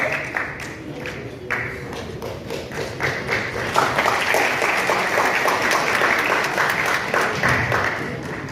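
An audience at a Hindi-Urdu poetry recital and mushaira breaks into applause, starting with scattered claps and swelling into sustained, dense clapping that holds steady to the end.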